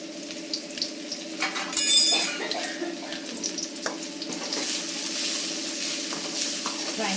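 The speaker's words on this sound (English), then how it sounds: "She is putting onion in the oil." Onion frying in hot oil for keema bhonda saar gives a steady, close sizzle with a few stirring clatters and a brief louder crackle near the start, and no talking.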